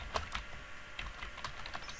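Quick, uneven clicking of keys on a computer keyboard, typed close up between Minecraft Egg Wars rounds on the CraftRise server, with a few louder key strikes standing out over about two seconds.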